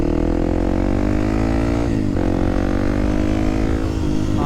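Kawasaki KOX 300 supermoto motorcycle ridden on a street in Chicago, its engine droning loud and steady up close, with harmonic pitch rising and falling through gear changes around two and four seconds.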